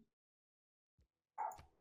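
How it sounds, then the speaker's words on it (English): A dog gives one short, quiet bark in a home, followed by a brief faint thump, with near silence between. "probably can hear my dogs barking"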